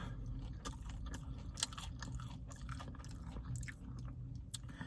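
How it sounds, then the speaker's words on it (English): Someone bites into and chews crispy Dave's Hot Chicken fried chicken close to the mic, with repeated crunchy bites and wet chewing in an uneven rhythm and no talking. "Let's eat it anyways. Let's see how it tastes."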